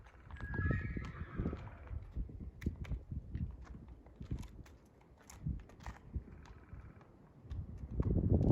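An American Quarter Horse gelding standing 15.2 hands, offered for sale, gives a clear whinny near the start, then its hooves clip-clop in irregular steps on firm ground, close and moderately loud with no talk.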